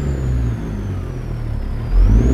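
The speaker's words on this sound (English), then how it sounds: "you recognize this beautiful engine, this DD60?" A Detroit Diesel DD60 engine in a Peterbilt 379 flat top truck in American Truck Simulator, heard as a steady, loud low rumble and whir that swells slightly near the end, with no talk.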